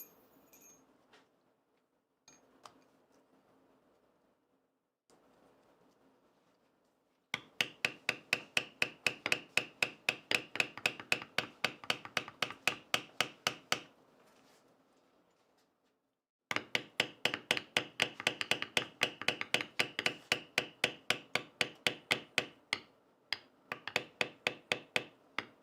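Leather edge being beveled for handmade trading cards, heard as two long runs of fast, even scraping strokes, each burst loud and close, with quieter handling noises and pauses between.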